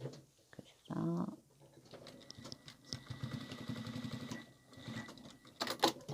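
A sewing machine stitching cotton fabric house slippers runs in short, uneven bursts of rapid mechanical ticking, close and fairly quiet, with brief pauses between runs.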